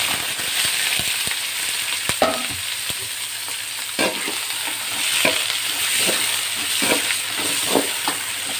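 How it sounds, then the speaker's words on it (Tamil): Onions sizzling with mustard seeds in a pan for a ponnanganni keerai egg stir-fry, a steady hiss broken by sharp scraping taps of the spoon at an uneven rhythm, close and fairly loud, no voices. "நல்லா இது வதக்கிக்கலாம்"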